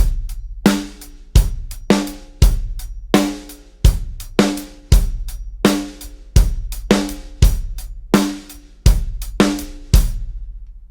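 A drum kit plays a looping groove in 7/8 with kick, snare and hi-hat, sharp evenly spaced hits ringing out one after another, loud and close, with no voices.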